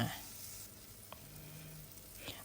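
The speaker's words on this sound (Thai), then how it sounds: "หั่นเห็ดลงไปทอด" Quiet sizzling of sliced gypsy mushrooms (Cortinarius caperatus) frying in butter in a pan, a faint steady crackle with a couple of soft clicks.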